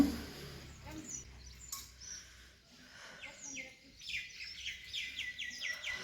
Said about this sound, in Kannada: ಎಷ್ಟು ಚೆನ್ನಾಗಿದೆ ಅಲ್ವಾ ಹಕ್ಕಿಗಳ ಸೌಂಡು